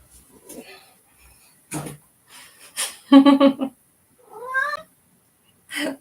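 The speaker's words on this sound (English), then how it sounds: "No, he's a very sweet cat, actually." A cat meows several times, with drawn-out, rising cries near the microphone spaced across a few seconds, along with small snorts and breaths between calls.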